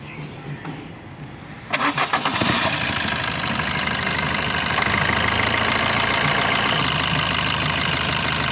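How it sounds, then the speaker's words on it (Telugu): A Maruti Suzuki Brezza 2018 ZDi automatic's diesel engine cranks briefly, catches and settles into a steady, rumbling idle that continues nearby without interruption. "ఒకసారి ఇంజిన్ స్టార్ట్ చేస్తాను చూడండి"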